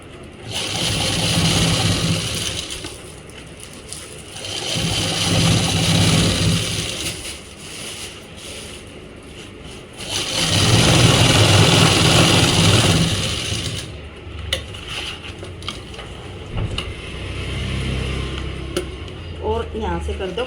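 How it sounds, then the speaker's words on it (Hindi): Sewing machine stitching thick seams on salwar pleats, running in several long loud mechanical bursts with pauses between them, and a person talking during the gaps. "ऐसे करके एक मोटे बखिए तय सिलाई लगा दो"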